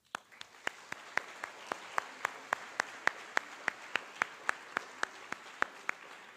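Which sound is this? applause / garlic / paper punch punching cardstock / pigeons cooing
applause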